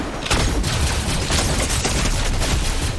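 Weapon fire in the Fortnite video game: a dense, continuous burst of rapid gunshots with booming low end, loud and close, running steadily for about three seconds with no talk.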